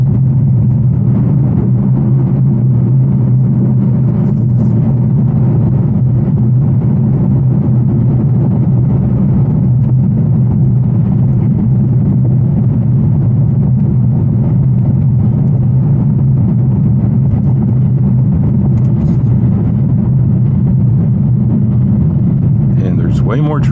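An 810-horsepower Whipple-supercharged Ford GT350 cruises along a curvy road, its deep, steady engine rumble and drivetrain drone filling the cabin continuously and loudly, with small surges but no sharp revving.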